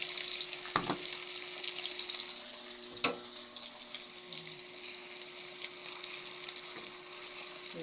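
Onions frying in a pan for biryani, a steady bright sizzle running throughout with a couple of sharp clinks of a utensil against the pan.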